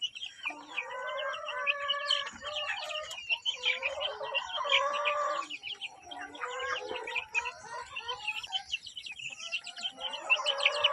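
Free-range chickens clucking and calling close by on a rural farm, overlapping bursts of clucks and higher chirps in several waves, fairly quiet and continuous with no talk.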